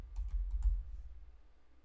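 Typing on a computer keyboard while entering a search term into a review importer, a short burst of several soft, quick keystrokes over the first second, then fading to quiet room tone.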